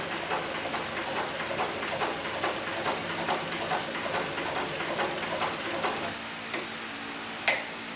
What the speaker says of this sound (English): I'll place the machine back into the forward stitch, and we're going to put a little bit smaller stitch on the machine here